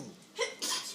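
A single sneeze bursts out close by in a quiet classroom during an algebra lesson, short and sharp with a quick breathy build-up.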